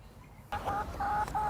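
Chickens clucking, a short burst of close, bright clucks starting abruptly after a moment of quiet.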